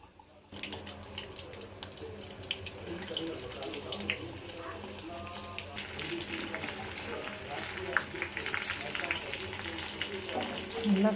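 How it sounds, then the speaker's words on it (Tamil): Egg-dipped chicken pieces coated in crushed Lays chips fry in hot oil with a steady, close, bubbling sizzle that runs throughout with small crackles and light clatter. "நல்லா ஃப்ரை ஆகுது பாருங்கள்."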